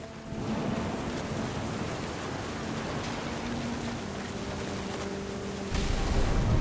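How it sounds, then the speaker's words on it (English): Rain with rumbling thunder in the video game What Remains of Edith Finch, a dense steady downpour hiss with low rolling rumbles that swell louder near the end. "Thunder sounded much too close and full of angry power."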